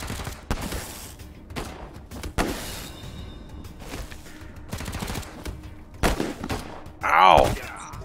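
Bursts of light machine gun fire from a Wasteland 3 battle, scattered sharp volleys across the stretch with a louder cluster near the end, mixed with other game effects and a voice in the background.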